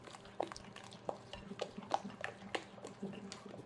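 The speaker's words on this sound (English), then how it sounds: "Sugar's a bit of a blob, so mix it in as best you can" A spoon mixes brown sugar into blondie batter in a bowl, with soft irregular scraping and stirring taps, close but quiet, and no voices.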